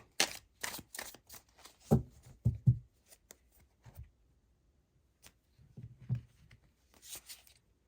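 Light Seers Tarot cards are shuffled close by in quick flicks and riffles, a string of soft snaps and slaps that slows into scattered taps and rustles after a quiet stretch, with no talking.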